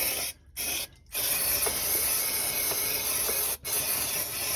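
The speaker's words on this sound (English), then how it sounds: "So some brake cleaner, don't need an excessive amount." Brake cleaner hisses from an aerosol can onto the rear brake lines of a Renault Clio MK1 GT Turbo in close, loud bursts, with brief breaks near the start and one short gap later.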